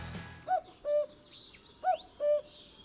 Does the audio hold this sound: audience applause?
no